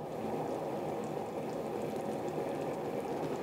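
Teriyaki sauce simmers in a pan for teriyaki chicken, a steady dense bubbling that stays even and fairly close throughout, with no talking.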